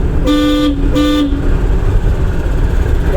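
Two short car horn honks sound in quick succession during a driving lesson, over steady road and engine noise, close and loud.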